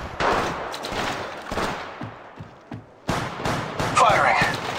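Bursts of automatic gunfire from Apex Legends Mobile gameplay with Gibraltar, loud repeated volleys separated by short lulls, with in-game voice callouts mixed in.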